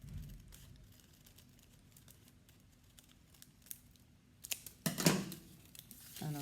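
Scissors snip through paper to cut out scalloped garret frills, quiet soft cuts and rustles giving way to a louder burst of crinkling paper handling near the end, close and without talk.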